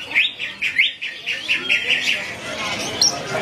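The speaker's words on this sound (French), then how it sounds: "retour vers l'agitation au marché aux oiseaux de Yogyakarta" Many caged songbirds chirping and tweeting at the busy Yogyakarta bird market inside the Kraton walls, Java, Indonesia, bright rapid calls close by over a faint murmur of crowd noise.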